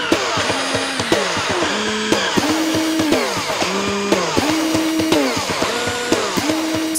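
Music built from power drill sounds: a motor whining at shifting pitches in a repeating rhythmic pattern, with sharp percussive hits marking regular beats, loud and close.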